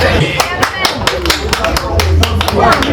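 Mourners clapping at a funeral tribute to a family matriarch, sharp separate hand claps in an irregular rhythm, fairly close and loud, mixed with background voices.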